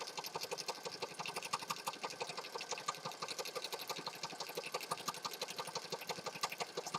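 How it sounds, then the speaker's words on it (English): Sewing machine running steadily as it stitches along a long, narrow fabric strip meant for a pocket, a close, continuous rapid mechanical whir with even needle clatter and no talking. "while I'm here at the sewing machine, I'm going to grab this long skinny strip that I think I'm going to use for a pocket and stitch on that"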